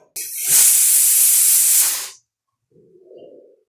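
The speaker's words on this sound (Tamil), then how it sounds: "இப்போது குக்கரை மூடிட்டு வெயிட்டை போட்டுப்போம்." Pressure cooker with its weight on, cooking rice porridge, letting out one loud, steady jet of hissing steam for about two seconds that cuts off abruptly, followed by a faint low gurgle.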